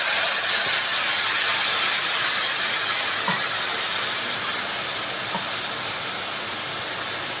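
Soaked spice paste hits a hot pan of fried tomato for a chapila fish curry, setting off a loud, continuous close-up hiss of sizzling that holds steady throughout, with no talking.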